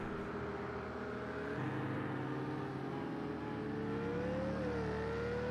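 GTE race cars at Laguna Seca in Project CARS 2, a Ferrari and a Ford among them. Steady engine drone throughout, with a rising, shifting harmonic whine from one car climbing through the revs, loud and continuous with no voices.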